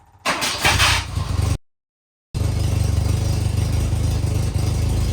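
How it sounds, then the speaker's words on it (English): A Volvo 240 engine with an exhaust leak cranks and catches, cuts out briefly, then restarts and settles into a rough, close idle with a raspy exhaust rumble. "It's still got quite an exhaust leak, but it's much better than it was."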